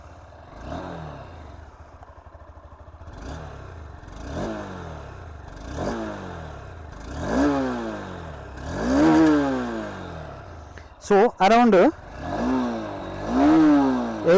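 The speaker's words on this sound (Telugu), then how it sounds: "సో ఎగ్జాస్ట్ నోట్ కూడా వినిపిస్తాను" A 2025 Honda Hornet 2.0 motorcycle idles and is revved repeatedly, each blip rising and falling in a rhythmic series of exhaust swells, ending with sharper high revs; a brief voice is heard near the end.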